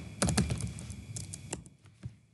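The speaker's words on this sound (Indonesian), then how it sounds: "Ini kita ketik perintah cd root." Short bursts of keystrokes on a computer keyboard as a terminal command is entered, a quick cluster of clicky taps followed by a couple of separate presses, close and clear with no speech.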